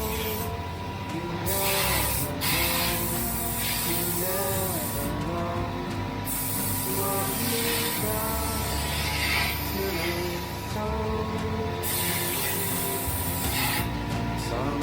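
Steady, loud spray-gun hiss as paint goes onto a vintage Bedford truck roof inside a tent, with rhythmic pulses and brief breaks where the spray stops and restarts.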